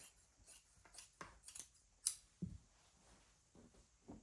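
Scissors snip through a piece of scrap quilt batting, a series of short, soft, close cuts in an irregular rhythm, quiet and alone with no talk.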